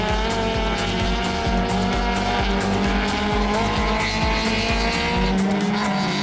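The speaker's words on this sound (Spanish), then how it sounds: "Otro auto en la pista, el de Alma Racing." A T2000-category race car runs on the track during a qualifying session, its engine a loud, steady roar with rhythmic gear-change pulses and tire squeal, close and continuous with no talk over it.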